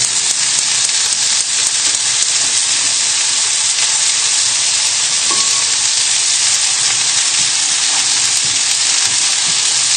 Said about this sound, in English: I can hear my lamb's just starting to quieten down now